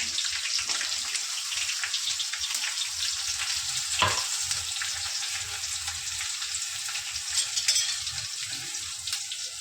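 Ground garlic and coriander paste sizzles steadily in a hot pan while a Marathi ridge gourd dish cooks, a close, continuous frying hiss with a few brief spits and no talking.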